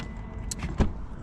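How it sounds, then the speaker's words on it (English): A 2025 Genesis G90 locking, its door handles retracting flush with the body: a short whirring motor sweep ending in a soft mechanical clunk, close by over a steady background hum. "when you lock it, the door handles go flush with the car"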